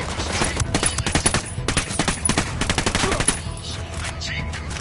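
Rapid gunfire bursts and single shots in the tactical shooter Ghost Recon, loud and close, firing in dense volleys for about three seconds before tapering into quieter ambience.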